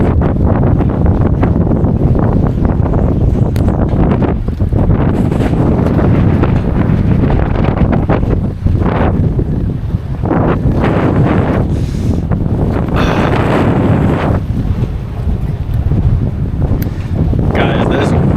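Strong storm wind of around 40 to 50 mph roars and buffets the microphone nonstop on the water during a fishing trip, loud and constant, with a person talking beneath the gusts.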